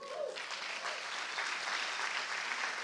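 Brief, fairly quiet burst of congregation applause in a church during a Sunday sermon, an even wash of clapping lasting a few seconds.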